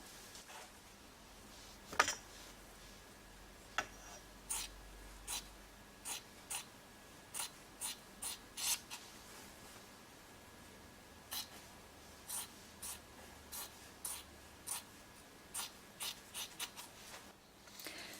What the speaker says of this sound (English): Then I'm going to cut the excess fabric I have now.